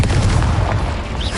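An Incendio fire spell blast in the Hogwarts Legacy video game, a short dense booming whoosh, loud and close, holding steady for about a second before easing off.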